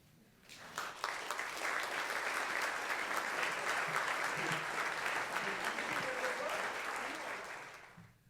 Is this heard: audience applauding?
yes